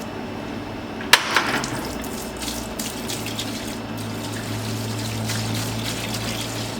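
Hose flush liquid poured into a Graco E-10HP sprayer, a steady watery gush and trickle running continuously, close by, beginning with a sharp knock.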